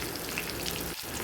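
Tomatoes and green chillies sizzle and crackle in a hot pan as they are stirred, a dense, steady frying hiss up close with a brief dip near the end.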